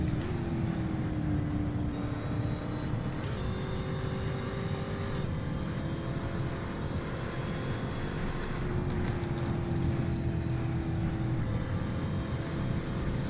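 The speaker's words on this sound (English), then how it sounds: "It's one thing about Assetto you gotta love is the sound that the cars produce." Muscle car engine from the Assetto Corsa racing game, a steady droning roar holding its pitch with small shifts, continuous and loud throughout with no talk.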